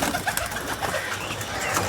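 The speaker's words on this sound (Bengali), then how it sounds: "এটা পাকিস্তানের ফিরোজপুরি পায়রা" A male Ferozpuri pigeon of Pakistani bloodline coos nearby, a few soft rolling calls over a steady background hiss.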